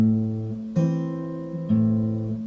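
Travis-style fingerpicked guitar with steady sustained notes, accented by a couple of sharper pinch attacks on count two where bass and treble strings sound together.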